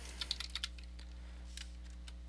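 Computer keyboard typing during a Men of War: Assault Squad session, with a quick run of close, crisp keystrokes followed by a few scattered taps over a steady low electrical hum, no voices.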